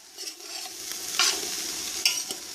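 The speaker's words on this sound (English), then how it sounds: "We're going to mix that to saute." Herbs sauté in a pan for an okra tomato stew, with scraping stirs and sharp clinks over a soft, continuous sizzle, fairly quiet and close.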